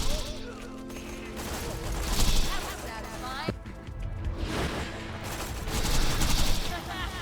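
Turret and weapon fire in the Siren video game: bursts of rapid shots and crashes with a sharp transient near the middle, set against busy game sound, with a voice talking over much of it.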